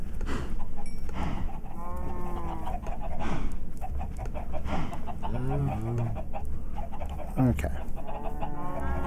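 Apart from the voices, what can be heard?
chickens clucking in Minecraft video game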